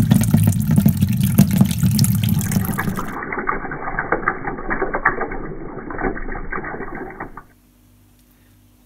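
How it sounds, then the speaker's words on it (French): Homebrewed all-grain wort from a Brewferm kit is poured out in a steady, loud gush, left to splash and foam for aeration; the flow thins and changes partway through, then stops into near silence. "il y a un moment où faut pas hésiter à laisser mousser, c'est maintenant"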